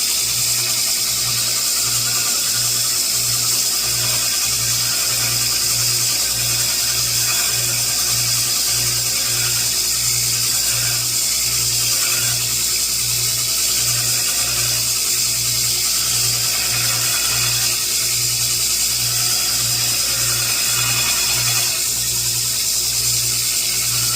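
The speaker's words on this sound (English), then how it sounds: "It's got a 120 grit belt on my grinder here." A 2x72 belt grinder running a 120 grit belt while shaping a forged herb chopper, giving a steady loud whine and hiss throughout with a pulsing low hum and no speech.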